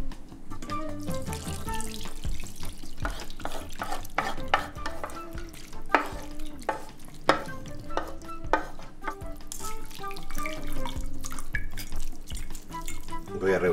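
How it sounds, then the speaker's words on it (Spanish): Cooked vegetables mashed through a metal strainer into broth, giving a close run of wet scraping, stirring and clinking strokes with splashy liquid sounds in an irregular rhythm. "los voy a aplastar lo suficiente hasta que se vayan transformando como en un puré y dejen pasar su esencia a través del colador"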